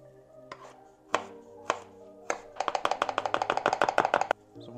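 A knife slicing through two garlic cloves on a cutting board: a few separate sharp chops, then a fast, steady run of close, crisp cuts against the board.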